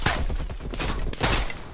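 Type 63 semi-automatic rifle shots in Call of Duty: Black Ops Cold War, a dense run of loud, close gunfire bursts over busy game noise, with no pause in the firing.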